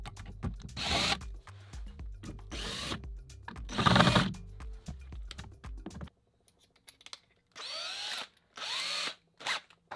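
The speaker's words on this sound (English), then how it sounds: "Continue on screwing it in." Power drill driving screws into a mount in a cluttered room workspace, in several loud whirring bursts of a second or two each, separated by short pauses.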